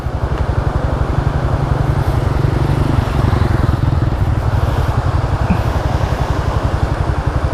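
Motorcycle rolling down a steep slope during a ride-and-camp trip, its engine a loud, close, rapid low putter that stays steady throughout.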